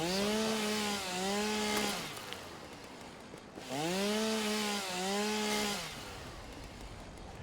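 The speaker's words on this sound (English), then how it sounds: "this is a chainsaw running off of the things I'm cutting down" A chainsaw in the video game Satisfactory cuts through grass, its engine revving up and down in two long, loud bursts with a brief lull between them, a single faint word spoken near the end.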